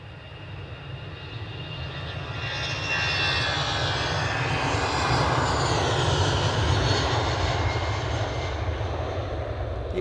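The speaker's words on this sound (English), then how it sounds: "It's an A319, 13 years of vintage, off to London Gatwick" A 13-year-old Airbus A319 jet takes off from Edinburgh for London Gatwick, its engine roar building over the first few seconds into a loud, sustained broadband rumble with a whining upper tone, heard alone without voices.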